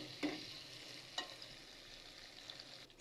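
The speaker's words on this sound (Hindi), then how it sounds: "दो मिनट हो गए हैं मुझे टमाटरों को फ्राई करते हुए" Onion and tomato masala frying in oil for a dhaba-style chicken gravy, a soft, fairly faint sizzle with a couple of brief stirring knocks.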